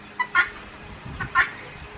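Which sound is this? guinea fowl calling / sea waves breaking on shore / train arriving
guinea fowl calling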